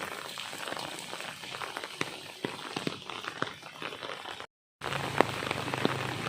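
Heavy afternoon rain in Thailand pours steadily with scattered louder drops striking nearby surfaces and an open umbrella, briefly cutting out before resuming.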